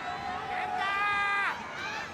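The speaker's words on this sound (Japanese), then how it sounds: "少しずつ王者健太に対する歓声が増えてきました" Arena crowd cheering for champion KENTA at a Nippon Budokan pro wrestling match against Naomichi Marufuji, a steady roar of many voices with rising shouts partway through, heard under a commentator's voice.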